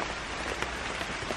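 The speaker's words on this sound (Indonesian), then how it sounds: "Sekarang sebenarnya masih hujan" Steady rain falling on a surface under a bridge, a dense even hiss with scattered louder drop hits, close and continuous with no voices.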